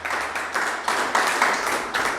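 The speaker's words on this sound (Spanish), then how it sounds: "Denle un aplauso al Señor" A church congregation claps together during a sermon, quick dense bursts of applause that swell and fade in waves, close and fairly loud.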